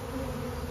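A small swarm of honeybees buzzes around the entrance of a hive box, a steady, faint, continuous drone with no voices.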